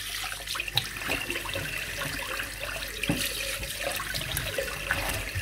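A tap runs into a sink as the face is rinsed after a shave with a shavette and a shaving soap. The water splashes and runs steadily nearby for several seconds, broken by small splashes and drips.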